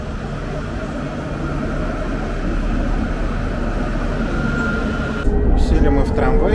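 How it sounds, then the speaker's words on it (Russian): Interior of a Casablanca tram with air conditioning, a steady broadband rumble and hum of the moving car, a sharper clatter near the end, with people talking over it. "Сели мы в трамвай."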